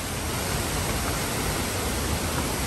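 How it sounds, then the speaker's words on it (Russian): Waterfall beside the road around Maui, Hawaii: a steady, dense roar of falling water, loud and unbroken throughout, with no voices. "посмотрите на водопад"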